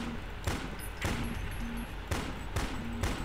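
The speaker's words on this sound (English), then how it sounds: "this shotgun has a pretty horrible recoil" A shotgun fires in Prodoomer, a Doom-style video game, with five loud booming blasts at a steady pace, each ending in a short tail, plus a faint high tone in between.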